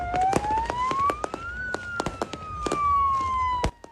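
A fire engine siren wails in slow rising and falling sweeps at Hsinchu's Nanliao fishing harbor during New Year celebrations, while firecrackers and fireworks burst in sharp, irregular cracks all around it, some close and loud.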